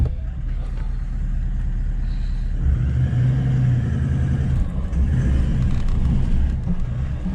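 A boat motor strains while the hull drags over a rock at Lorella Springs, Australia: a loud, close, continuous low engine rumble that swells and labours throughout, with no talking.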